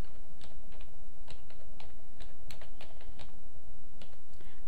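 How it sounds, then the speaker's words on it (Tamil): Quick, steady typing on a computer keyboard while a business card is laid out in Photoshop, loud and close with dense clacking keystrokes and no talk. "டைப் பண்ணிக்கலாம்."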